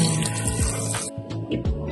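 Tap water running steadily into a sink while fish is washed in a home kitchen, with a few soft splashes and clatters near the end.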